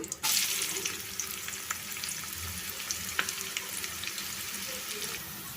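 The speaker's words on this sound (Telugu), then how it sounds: "ఇప్పుడు దీంట్లో సన్నగా కట్ చేసుకున్న ఉల్లిపాయ ముక్కలు వేస్తున్నాను" Thinly sliced onions hit hot oil with cumin seeds already in the pan while cooking a Telugu raw prawn curry: a sudden sizzling burst settles into steady frying hiss with a few light clicks.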